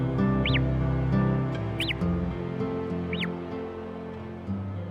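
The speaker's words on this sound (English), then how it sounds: "One of the ways that mountain lions communicate with each other is through these chirping sounds." A mountain lion mother and her kittens exchange chirps: three brief, high, bird-like calls spaced roughly a second and a half apart over a steady low droning background.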